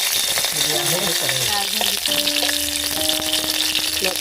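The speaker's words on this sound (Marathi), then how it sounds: "आता तेल झालं आहे गरम टाकूया आता लसूण टाकतो" Garlic hits hot oil already holding curry leaves and green chillies in a home kitchen pan, giving a loud, continuous sizzle and crackle with faint background voices.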